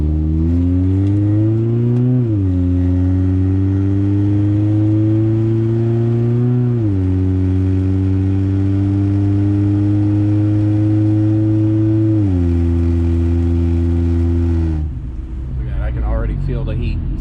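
A 1997 Honda Accord with a newly replaced A/C expansion valve runs on a test drive, its engine droning steadily and rising and falling in pitch with each gear change, loud and close throughout.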